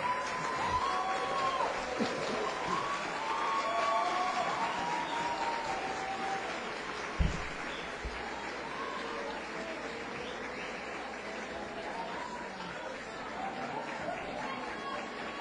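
Audience at a special session of the Criciúma municipal chamber applauds as honorees come forward: a sustained, moderately faint patter of many hands clapping through a hall, with a single sharp knock midway and soft murmuring underneath.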